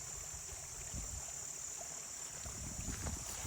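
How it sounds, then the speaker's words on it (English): A creek running near an off-grid log cabin, with a small waterfall somewhere close by, gives a steady broad rushing wash. A few low bumps and rustles sit under the flow, and no one speaks. "You can hear the creek"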